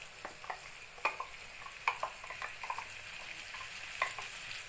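Blended spice paste ground in a mixer hits a hot pan and fries with a steady soft sizzle, broken by a few sharp crackles and stirring scrapes, close and moderately quiet.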